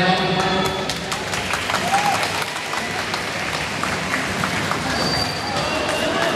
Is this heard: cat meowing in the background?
no